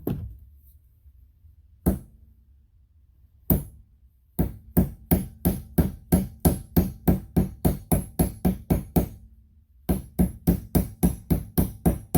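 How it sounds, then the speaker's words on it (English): Heavy hammer blows ring out on a steel maul head as an axe handle is fitted: a few spaced strikes, then a long steady run of loud, evenly timed hits, a brief pause, and more rhythmic strikes. "We got the big hammer out for this one, not the little ball peen."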